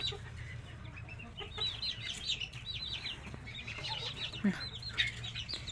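Many small chicks cheep in quick, high-pitched bursts, overlapping and fairly close, over a low steady background hum.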